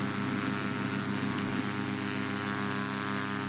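A Cessna 185F amphibian's propeller engine runs at full throttle around 2850 RPM in the FS9 flight simulator, a steady, loud droning hum with constant harmonic tone and no talk.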